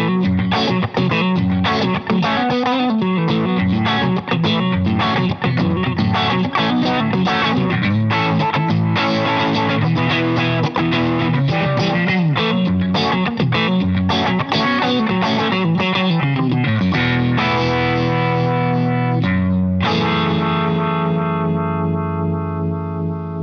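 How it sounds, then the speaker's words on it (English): Electric guitar played through a univibe or harmonic tremolo effect, a loud continuous run of swirling, distorted chords and notes with echo, easing into sustained ringing tones near the end; no voices. "I always have at least one of these effects on my board, whether it's a univibe or a harmonic tremolo."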